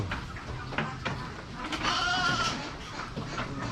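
Goats bleat in a farm pen: one loud, wavering bleat rises out of a busy, noisy background of animal sounds at close range.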